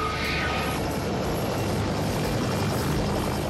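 A rescue helicopter flies overhead over rocky sea, its rotor and engine giving a loud, dense, continuous roar throughout without a break, with no talking.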